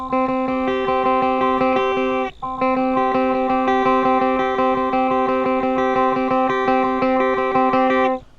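An electric guitar plays a repeating riff of quick picked notes, heavily processed with effects and sustain, with one brief break partway through.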